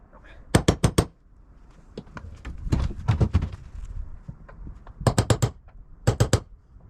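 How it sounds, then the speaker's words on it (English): A hammer striking a nail set to reset nails in an old door, heard as quick clusters of three or four sharp metallic taps, close and loud, with a voice talking softly between the bursts outdoors on a windy day. "We'll just reset these nails."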